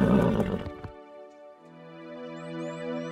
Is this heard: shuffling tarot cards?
no